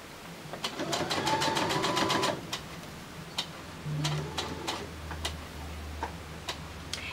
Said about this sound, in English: And then I sew right up to that line.